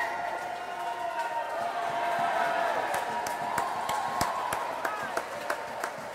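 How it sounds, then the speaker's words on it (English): A crowd applauds and cheers steadily for competitors at a summer games swimming event, with claps popping through a continuous roar of noise from the pool hall. "All these competitors are getting a great round of applause from the crowd here and all the volunteers that are on the deck with them"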